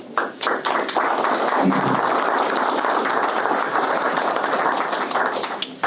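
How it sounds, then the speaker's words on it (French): An audience applauds after an official speech, loud and close, with sharp individual claps and a few thumps standing out from the dense, steady clapping. "C'est à eux que les applaudissements."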